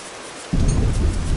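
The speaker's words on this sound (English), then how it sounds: "Yeah, hey, rainy-ass world." Rain in the video game Don't Starve begins abruptly as a loud, dense broadband downpour hiss that sets in partway through and continues steadily to the end, with no talk.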